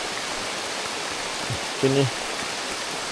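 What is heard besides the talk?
heavy rain in the jungle on a trek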